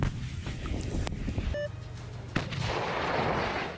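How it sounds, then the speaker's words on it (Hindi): Russian artillery fire in the war with Ukraine booms in heavy low rumbling blasts with a sharp crack near the middle, under steady wind-like noise. "जिसकी गवाही दी वहां हुए धमाकों ने, जिनकी आवाज ने यूक्रेन के सैनिकों को हिलाकर रख दिया"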